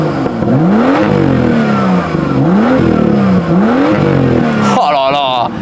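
BMW M2 engine in sport plus mode with open exhaust valves, revved repeatedly against its 3000 rpm limiter: loud, close, rising and falling pulls in a steady cycle, ending with a burst of crackling pops.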